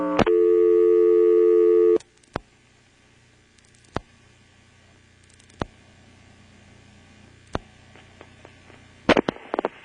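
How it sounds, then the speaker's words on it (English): Telephone line on a 1977 NX1-E exchange in Vanceboro, North Carolina: a loud steady tone for about two seconds, then a low hum with sharp isolated clicks of dialing pulses spread across the line, and a burst of clicks near the end. "Now I'll dial 244, the local office code, followed by 1."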